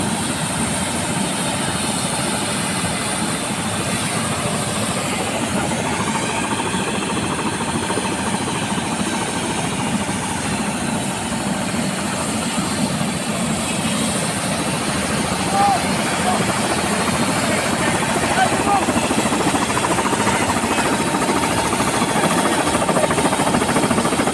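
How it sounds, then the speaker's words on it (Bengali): An air ambulance helicopter at Aliya ground in Sylhet runs its engine and rotor, a loud continuous droning whir with a rapid chopping pulse that holds steady throughout. "এটাকে বলা হয় ইয়ার হেলিকপ্টার যেটাতে যেটা থেকে রুগী বহন করে"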